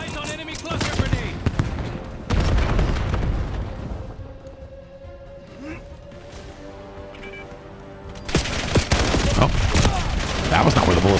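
Gunfire from Call of Duty: Black Ops 7 comes in dense, loud volleys at the start and end, with quieter scattered shots between them alongside in-game voice callouts.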